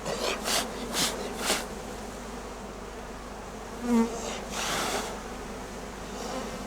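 Honeybees buzz steadily around a hive, with a few louder close passes and soft thumps over a continuous droning hum.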